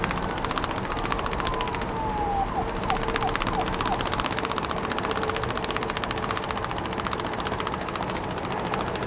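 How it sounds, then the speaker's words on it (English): A police car siren from a kids' vehicle-types toy set, wailing steadily and fairly loud through the whole stretch with a sweeping rising-falling tone, alone without voices. "Police car."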